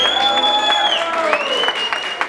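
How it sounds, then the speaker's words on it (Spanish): Family members applaud for the birthday honoree at a party with a mariachi band, steady clapping filling the short stretch with a few cheers, while a voice talks over it. "que se escuche familia ese aplauso."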